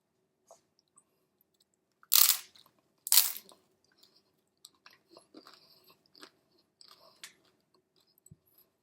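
Two loud, close crunchy bites into a fresh taco shell, followed by quieter chewing and small crackles in an otherwise silent room.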